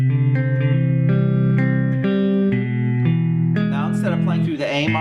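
Guitar plays a lick, a short run of sustained, ringing notes and bends, close and clear with no voice over it.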